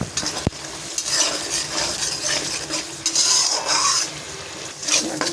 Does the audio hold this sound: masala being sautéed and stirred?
yes